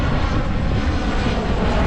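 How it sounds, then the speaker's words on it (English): A United Airlines plane passes overhead near a Hawaiian beach, its engine roar loud, steady and continuous with no voices. "Let the United plane get over."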